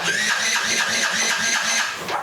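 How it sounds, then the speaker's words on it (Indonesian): An old Yamaha Jupiter Z motorcycle, cold, turns over on its electric starter with a steady, rapid, rhythmic whirring crank that runs the whole time without the engine catching. "Dan sekarang saatnya kita coba starter ya."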